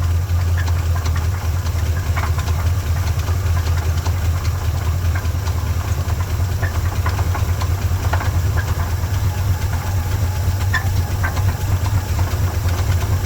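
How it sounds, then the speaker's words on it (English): A 1969 Chevy C-30 one-ton truck engine idling steadily with a low rumble and faint irregular knocking taps throughout, no voices. "It does have a little bit of a knock."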